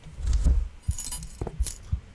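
A key being picked up in a video game gives a short metallic jangle and clink, close and moderately loud, followed by a few brief softer clicks.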